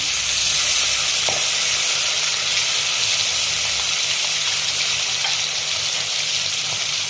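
Chili paste frying in hot oil for a hilsa fish curry makes a loud, unbroken sizzle and crackle that stays close and constant throughout.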